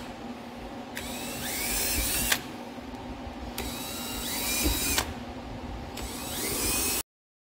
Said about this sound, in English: I have a, you know, just a little Dremel with one of those little side cut style bits on it.